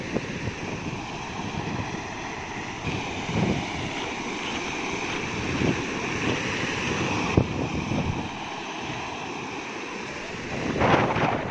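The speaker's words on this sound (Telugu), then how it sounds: "గుంటూరు జిల్లాలో జోరు వానలు కురుస్తున్నాయి." Heavy rain falls in Guntur district as a steady, dense broadband roar with a wind-like wash, holding constant throughout with no voices.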